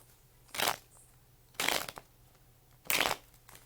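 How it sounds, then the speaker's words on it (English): Tarot cards being shuffled by hand in three separate quick riffling bursts, each about half a second long, close and fairly loud against a quiet room. "Trying to shuffle my cards"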